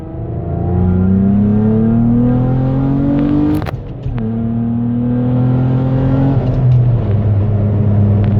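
A Nissan Altima with a VQ engine accelerates hard, its engine note climbing loudly through the gears with a brief dip at each quick shift, close and continuous.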